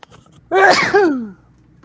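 A single sharp sneeze breaks in abruptly after a brief quiet moment, loud and close, with a voiced drawn-out tail that fades off. No talk is heard.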